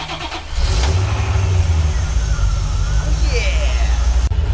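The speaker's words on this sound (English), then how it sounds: "We got the car started." A 1991 C4 Corvette engine turns over and catches after a jump start, then settles into a loud, steady running rumble close by.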